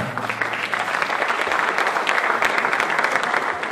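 Conference audience applauding, a dense, loud burst of many hands clapping that fills the whole stretch evenly.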